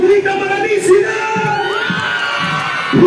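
At an anniversary celebration in Huancayo, a crowd shouts and cheers for Alicia as she appears. Loud, close whoops and yells overlap continuously.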